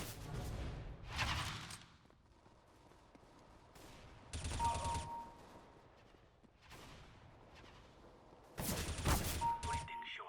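Bursts of rapid gunfire from Counter-Strike: Global Offensive crackle in short volleys with quieter gaps between, loud and close, with faint game sounds underneath.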